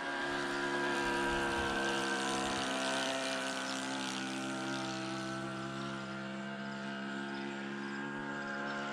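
A scale RC Piper J-3 Cub model airplane flies a loop over a pasture, its propeller engine giving a steady droning whine that holds at full throttle with only a slight fade in pitch and level.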